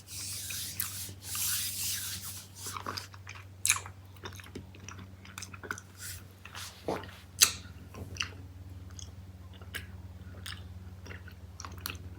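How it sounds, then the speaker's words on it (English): Gummy peach ring candy coated in Tajin chili lime seasoning being sucked and chewed up close, with wet squishy mouth sounds and scattered sharp smacks and clicks over a quiet low hum. "I'm trying to suck the seasoning out first, and then I'm gonna start digging into the yellow part of the candy."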